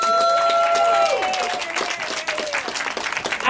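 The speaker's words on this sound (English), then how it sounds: "let's give her a round of applause" Crowd applause at a 90th birthday party, a dense, steady clapping from many hands that holds loud throughout, with voices and cheering mixed in.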